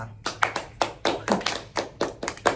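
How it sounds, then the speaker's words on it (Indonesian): A small group clapping hands together during a casual Indonesian podcast, about a dozen sharp, close, fairly quiet claps in an uneven but steady rhythm with no talking. "Tepuk tangan kita."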